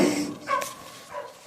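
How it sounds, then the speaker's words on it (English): A dog at a rural settlement barking a few times in quick succession, a short yelp and then softer whimpering barks, moderately close with no talk. "I know because his dog is barking"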